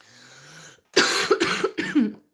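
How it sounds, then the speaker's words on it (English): After a quiet stretch, a burst of several harsh, close coughs comes in quick succession, fairly loud, with brief pauses between them. "since yesterday I'm coughing"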